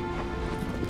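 A horse's hooves clip-clop in Shadow of the Colossus, a dense steady rattle of footfalls mixed with wind and game ambience for a brief moment.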